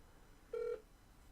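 A phone call is being dialed, producing a single short electronic keypad tone that stands out briefly against quiet background hiss.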